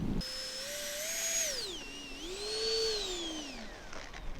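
An E-flite Habu STS 70mm electric ducted-fan RC jet passes overhead, its high turbine-like whine sweeping up and down in pitch as it flies by, fading and returning, with no talk.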